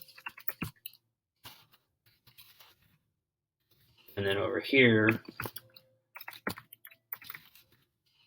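A few scattered soft clicks of keyboard typing, with a short stretch of close speech in the middle and more brief keystrokes afterward.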